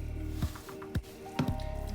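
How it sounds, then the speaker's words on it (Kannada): Rice flour dough kneaded by hand, giving three or four soft, wet squishes, close and quiet over a low steady hum. "ಚೆನ್ನಾಗಿ ಕಲಸ್ಕೋಬೇಕು."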